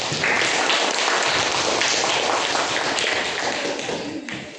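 A classroom of students applauds after a group presentation, steady dense clapping that fills the room loudly from start to finish and tapers slightly at the end.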